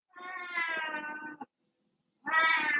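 A house cat meows in two drawn-out, harmonic calls, a long one followed after a short pause by another, close and clear with no talking over them.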